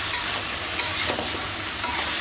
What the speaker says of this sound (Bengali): পেঁপেটাকে কিছুক্ষণ ভেজে দিব।